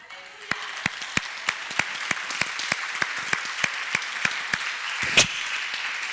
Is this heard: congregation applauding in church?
yes